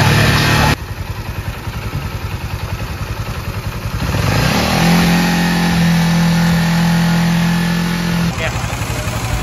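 Motorcycle engine idling with its large radiator fan, a steady close mechanical rumble that swells partway through as the fan kicks in with a whirring hum, while someone talks over it.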